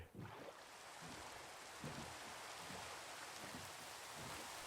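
Steady video-game rain falling while out on the water in a boat, a continuous even hiss of drops with no break and no voices.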